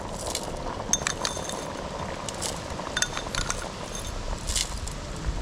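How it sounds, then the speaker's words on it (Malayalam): Rock sugar crystals are dropped into a pan of temple-style Kerala kadumpayasam, giving light, scattered clinks and tinkles over a soft, steady background hiss, with no voices. "ഇനി നമുക്കതിലേക്ക് കുറച്ച് കൽക്കണ്ടം ചേർത്ത് കൊടുക്കാം."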